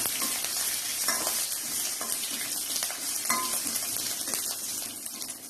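Spices and peeled garlic cloves fry and sizzle in a pan for mutton gravy, a continuous close crackle broken by a few scraping stirs of a spoon against the pan.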